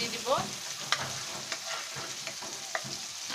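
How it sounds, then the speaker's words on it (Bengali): Chicken steak fries in hot oil while a utensil stirs and scrapes the pan, giving a steady close sizzle broken by a few sharp clinks and taps, with no talking. "আমরা কিছুক্ষণ এক পাশটা ফ্রাই করে নিই"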